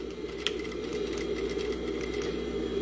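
An industrial straight-stitch sewing machine stitching a zipper close to its teeth, a steady fast mechanical whir and rapid needle clatter at close range, continuous and even, with no one speaking.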